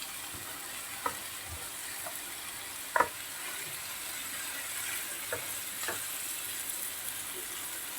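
Tomatoes, courgettes and other vegetables are stirred together in a frying pan for a ratatouille tart: a steady soft sizzle with a few sharp scraping clicks from the utensil, close by and with no talking.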